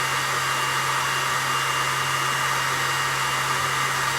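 A laser engraver etching a gold coloured coaster gives a constant loud whirring hiss with a steady low hum, unbroken and unchanging throughout.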